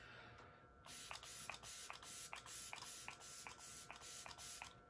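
Setting spray is misted onto a face in a series of about ten short, crisp hissing bursts in a quick, slightly uneven rhythm, close and fairly loud, with no talking.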